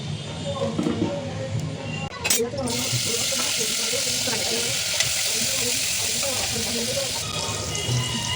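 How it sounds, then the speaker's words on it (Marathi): Dried fish frying in a pan gives a steady, dense sizzle throughout, with a few brief clatters near the start. "आता हे सुकी मच्छी आपण पहिल्यांदा मस्त फ्राय करून घेऊया"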